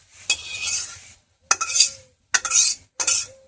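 Khichuri is stirred in a pot in four separate scraping strokes, each a close, gritty swish of utensil against the pot with brief pauses between.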